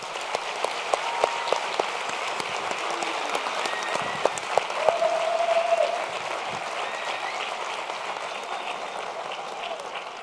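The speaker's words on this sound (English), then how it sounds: "So a round of applause to the graduates." Audience at a PhD graduation ceremony applauding the graduates, a steady, even wash of many hands clapping at moderate distance across the whole stretch, with a faint tone briefly sounding midway.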